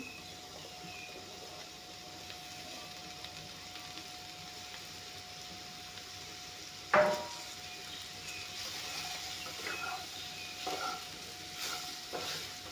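Water lily stalks fry in a pan with a steady low sizzle, and a sharp clatter comes midway. Faint stirring knocks follow, with no talk.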